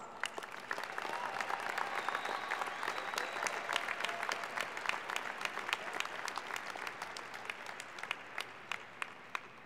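Sustained audience applause fills a graduation diploma and awards ceremony hall, dense and steady clapping from a large crowd continuing evenly throughout with no speech over it.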